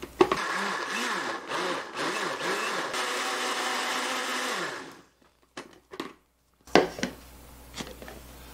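A blender grinds pineapple with apple cider vinegar into a salad sauce, a loud steady whir with pulsing churn for about five seconds. It then stops, leaving brief clicks and handling knocks.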